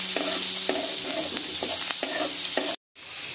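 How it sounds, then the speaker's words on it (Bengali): Onion, chilli and garlic fry in a pan with a steady close sizzle, broken by regular scraping stirs about every half second, then a brief cut to silence before the frying resumes. "পেঁয়াজ লঙ্কা রসুন সবগুলোকে খুব ভালো করে ভেজে নিচ্ছি"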